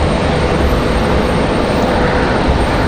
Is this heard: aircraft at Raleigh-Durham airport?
yes